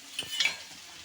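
Curry leaves dropped into hot oil over golden-fried onions: a brief, quiet crackle and sizzle with a couple of soft spatters, heard alone.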